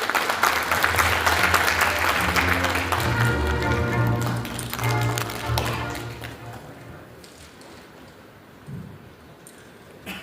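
Audience applause at a medical center opening ceremony in a convention hall in Jeju, steady clapping from a crowd that fades over several seconds into quiet room tone.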